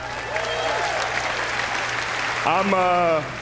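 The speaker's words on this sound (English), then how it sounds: "Give it up for Brittany, everybody." An awards-show audience at the ESPYS breaks into applause, continuous crowd clapping throughout while someone talks over it and a louder burst of cheering rises near the end.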